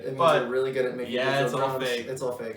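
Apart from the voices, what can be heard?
No everyday noise stands out behind the speech.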